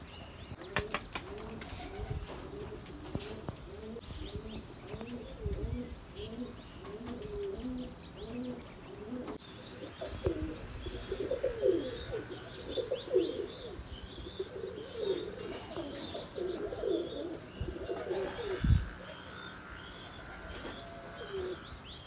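Pigeons coo in soft, repeated rhythmic phrases, fairly close, with occasional chirps and a brief flutter of wings in the background.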